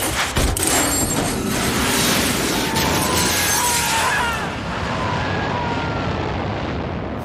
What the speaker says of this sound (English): Step three, pull the ejector seat handle.